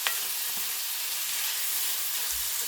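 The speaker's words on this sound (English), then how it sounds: "All we're doing is stirring it around in there until it cooks down and turns a little liquidy." Peach glaze bubbling and sizzling in a hot frying pan while being stirred, a steady bright hiss up close with a faint scrape near the start and a soft low knock toward the end.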